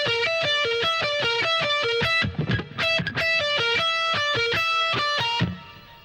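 An electric guitar with a slightly distorted tone plays a Locrian minor7b5 arpeggio phrase high on the neck, picking quick, evenly repeated three-note groups that ring clearly and fade out at the end.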